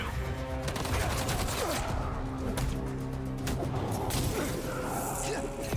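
Sniper rifles firing in a Spider-Man video game, with a loud, dense stretch of gunfire that runs throughout alongside whooshing game effects and music. A voice talks over it.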